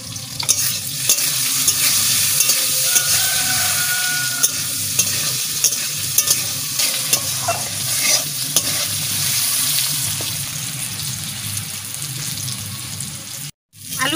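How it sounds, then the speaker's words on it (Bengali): Potatoes with turmeric and salt fry in a pan and are stirred, giving a loud, continuous sizzle with repeated scraping strokes that stops abruptly for a moment near the end. No one speaks. "আলু একদম সুন্দর লাল লাল করে ভেজে দিচ্ছি"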